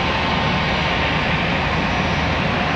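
Airplane taking off from runway 36 at Charlotte Douglas International Airport, a loud, steady engine roar that fills the whole stretch without talk.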